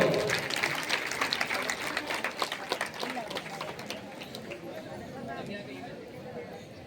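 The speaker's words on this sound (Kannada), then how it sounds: "ಆ ಮಕ್ಕಳಿಗೆ ಜೋರಾದ ಚಪ್ಪಾಳೆ ತರಬೇಕು" Loud applause from an audience at a commemorative ceremony, given for a group of students, dense clapping for several seconds mixed with crowd voices, then thinning toward the end.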